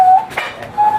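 A person whistles two short, clear tones close by with a brief breathy gap between them.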